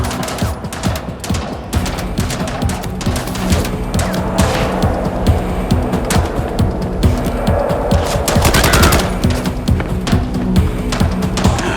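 Sustained gunfire from the video game Mindseye, a dense, continuous rattle of rapid shots over a thick backdrop of game noise and music, loud and unbroken.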